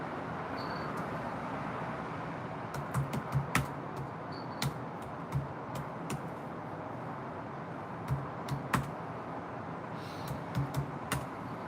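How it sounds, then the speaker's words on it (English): Typing on a computer keyboard comes through as sparse, irregular clicks and short bursts of keystrokes over a low background hum, with no voices. "Don't laugh at my typing."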